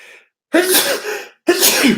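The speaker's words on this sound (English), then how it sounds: "that was a sneeze" A loud, close sneeze: a brief intake of breath, then two forceful bursts of sneezing in quick succession.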